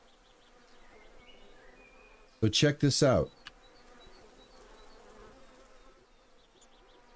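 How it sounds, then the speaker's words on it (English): Bees kept on a farm in the video game Farmer's Dynasty 2 hum in a soft, constant buzz throughout, while someone speaks briefly partway through. "Yeah, you can hear the bees"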